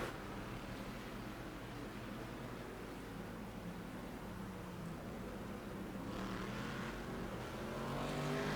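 A Ford GT race car engine in the iRacing simulator, a steady droning roar held for several seconds that swells slightly near the end, with no talking over it.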